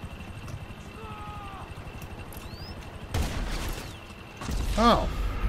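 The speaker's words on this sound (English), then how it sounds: "Is that a helicopter?" Helicopter in GTA 5 Online, a steady rotor chop pulsing beneath game gunfire bursts, with a voice speaking over it.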